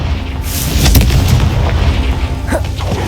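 A Confringo fire spell bursts in the Hogwarts Legacy video game as a loud, deep boom that swells and rumbles through the whole short stretch, with a sharper crackle near the end.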